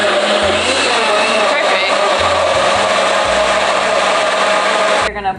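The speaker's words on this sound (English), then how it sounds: "we're gonna pour our carrots into our blender, and we're gonna blend it" A blender roars loudly and steadily, its motor whining as it chops and churns carrots with juice, then cuts off abruptly near the end.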